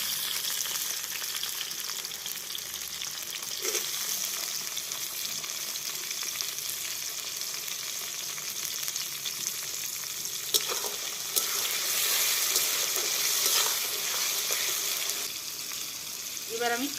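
Chopped tomatoes frying in a hot pan for an olive pickle, giving a steady, close, loud sizzle with occasional scraping and stirring clatter throughout.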